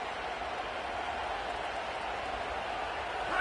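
Football stadium crowd on third down makes a steady, fairly distant roar of cheering and noise, even and sustained with a slight swell at the very end.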